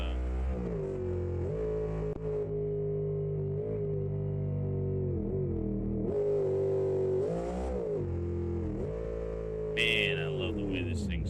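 Game car engine in BeamNG, a race-tuned car, droning steadily close up, its pitch rising and falling as it revs and shifts, with a brief burst of higher noise near the end.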